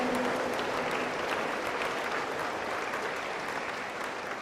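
A church congregation at a night vigil claps together in steady, dense applause that stays loud and even throughout, with no voices standing out above it.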